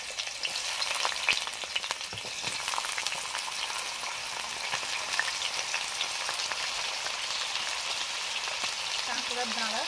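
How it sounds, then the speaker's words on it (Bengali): Crab claws frying with potatoes in hot oil, a steady close sizzle with crackling pops that runs without a break for about ten seconds. "একটাই কাঁকড়া, এর জন্য এই আলুর সঙ্গেই ভেজে নিচ্ছি।"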